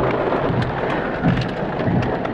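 Heavy rain from a big summer thunderstorm roars without a break, with deep rolls of thunder swelling underneath. The downpour is loud and near, and no one speaks.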